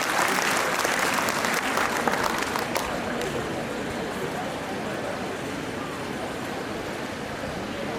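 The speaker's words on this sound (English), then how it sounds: "please clap for Sir" An auditorium audience at an institute's inauguration ceremony claps steadily and loudly, a dense continuous wash of applause that holds for the whole stretch with no talk over it.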